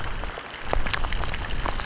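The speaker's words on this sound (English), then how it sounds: "the rain kind of botched that up" Rain falling outside a shopping mall in North Carolina, a soft patter of scattered drops over a low steady hiss, with a few sharper taps standing out.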